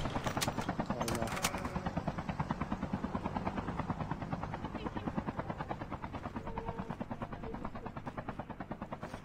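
A helicopter in a zombie video game thuds with a steady, fast rotor chop, loud and continuous, with engine whine beneath the beat and no talking.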